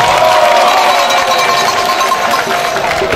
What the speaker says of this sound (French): Applaudissez-vous très fort.